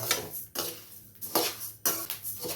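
Coriander seeds roasting in a pan and stirred with a metal utensil, giving a few loud scraping, rattling sweeps with short pauses between them, close by and without talking.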